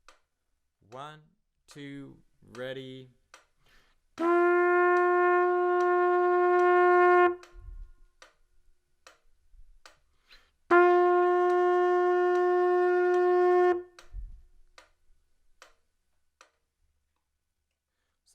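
A beginner's trumpet plays two long sustained whole notes, each about three seconds, over steady ticking metronome clicks at 70 beats per minute, after a voice counts in.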